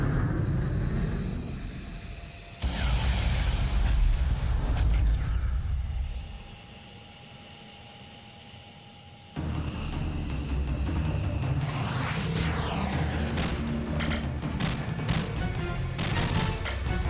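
Aircraft squadron taking off in a LaserActive video game: loud, sustained synthesized jet roar with rising whines and rumbling shifts, later broken by rapid bursts of crackling impacts.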